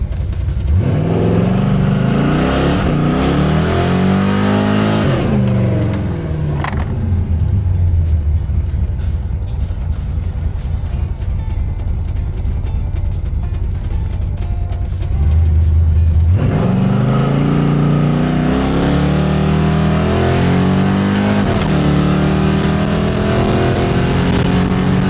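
A Chevrolet S10 shop truck accelerating hard down an empty road, its engine revving up through rising gear pulls with a brief lull mid-run before roaring on again, loud and close.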